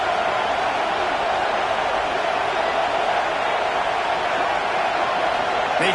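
Stadium crowd at a football game roaring steadily behind the defense on a third down in the red zone, a dense, continuous wall of cheering that holds at full loudness for the whole stretch.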